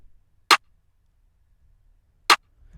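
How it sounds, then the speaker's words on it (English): Two crisp, snappy snare drum hits, spaced well apart, each short and sharp against near silence. "Here's a snare."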